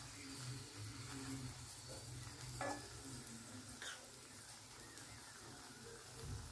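Aloo paratha fries quietly on a pan with ghee or oil, giving a faint, steady sizzle with occasional soft scraping, and a low voice murmurs in the background.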